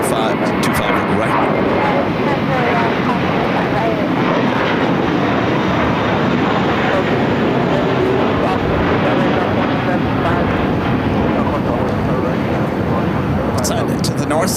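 A JetBlue Airbus A321 takes off from runway 25 right at Los Angeles International Airport, its engines a loud, sustained broadband roar that holds steady throughout.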